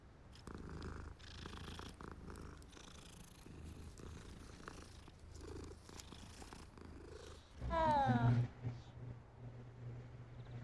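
A cat purrs softly in Hogwarts Legacy, a low steady rumble running under game sounds, with a louder burst of game audio near the end.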